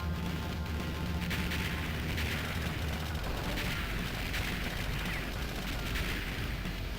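Cannons being blown up in the arcade shooter Shock Troopers, a dense, steady roar of gunfire and explosions that carries on without a break for the whole stretch, with no voices.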